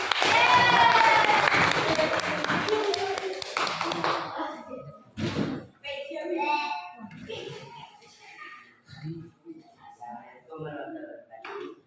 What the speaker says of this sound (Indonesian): Beri aplaus dulu kepada kelompok 4